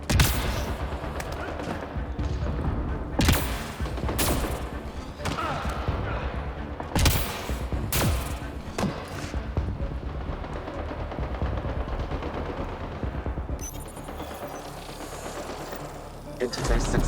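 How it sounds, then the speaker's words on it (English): Gunfire from a sci-fi shooter game, Mass Effect: Andromeda, rings out as repeated sharp bursts over a dense continuous battle soundscape, loud and close, with some in-game dialogue mixed in. "What are you guys shooting at?"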